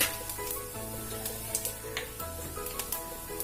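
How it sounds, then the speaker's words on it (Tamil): Fennel seeds sizzle and crackle steadily in hot oil in a pan, with small pops scattered through the frying. "ஆயில் நல்லா ஹீட் ஆயிட்டு நான் இப்போ சோம்பு ஆட் பண்ணிடுறேன்"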